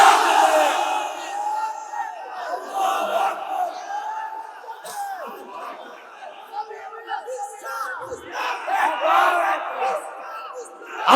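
A large crowd roars a takbir chant at a fiery Islamic religious sermon, massed voices shouting and yelling in loud surging waves that rise and fall over about eleven seconds.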